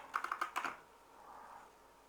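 A quick run of about six crisp computer keyboard key presses in close succession, quiet and close, followed by near silence with faint room hum.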